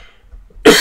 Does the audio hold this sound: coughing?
yes